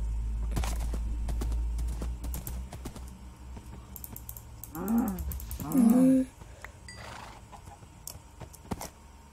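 Soft clopping of horse hooves and light clicking in Minecraft, with a horse whinnying twice in the middle.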